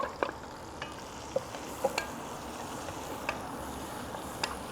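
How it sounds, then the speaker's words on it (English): Mirepoix vegetables sizzle and fry in rendered bacon fat for a smoked pork ragu, a steady crackling hiss with occasional sharper pops and stirring scrapes, heard close up with no talking. "So let's come in now with the mirepoix."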